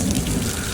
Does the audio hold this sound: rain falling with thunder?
yes